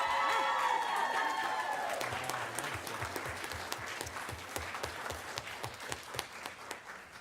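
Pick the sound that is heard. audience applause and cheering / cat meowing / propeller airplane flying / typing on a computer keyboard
audience applause and cheering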